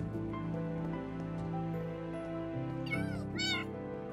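Two quick meows from cats in Minecraft sound in succession near the end, set over a continuous musical drone with shifting tones.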